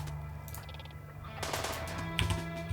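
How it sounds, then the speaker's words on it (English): Stolen machine guns fire in RimWorld as prisoners shoot at a turret, a dense rattle of bursts building midway with sharper shots near the end over a steady game background hum. "They've stolen their machine guns and they're now firing at the turret."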